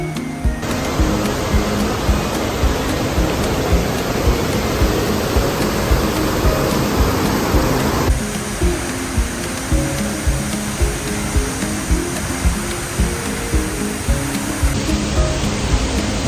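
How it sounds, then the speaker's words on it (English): La Fortuna waterfall in Costa Rica roaring as a steady, loud broadband rush of falling water that fills the whole stretch, with a slight drop in intensity partway through and no talking. "the waterfall that's feeding it up there."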